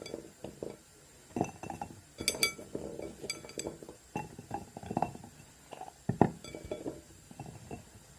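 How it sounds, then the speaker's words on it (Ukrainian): Garlic cloves drop into glass jars for pickling, making soft clinks and light knocks at an uneven pace, close but quiet with no talking. "Тепер наповнюю баночки часничком."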